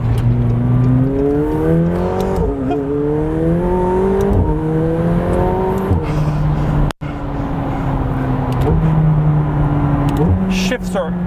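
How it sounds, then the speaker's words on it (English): A McLaren 720S twin-turbo engine pulls hard through a bend, rising whine and rumble with rhythmic gear shifts and a high turbocharger whistle, loud and close from inside the car, a brief cut near the middle. "the whistle from the turbochargers is one of the coolest sounds that I have heard any car"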